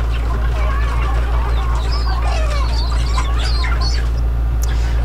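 Native Bisaya chickens and small black chicks cluck and peep in a range area, a busy mix of short calls and chirps over a steady low hum, close by.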